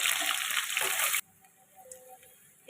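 Cumin, bay leaves, dried red chillies, green chillies and onion hit hot oil for a Bengali mutton kosha tempering, giving a loud, bright hissing sizzle for about a second that abruptly falls to a faint, low crackle.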